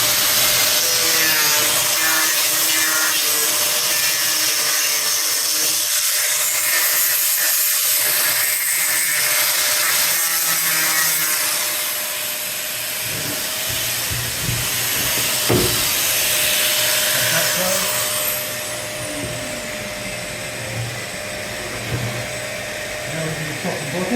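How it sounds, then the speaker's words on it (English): A small angle grinder fitted with a rubber pad roughly sands a wooden sash window, giving a loud, steady whirring grind that runs nearly throughout and eases slightly toward the end. "Basically, it's a small angle grinder with a rubber pad."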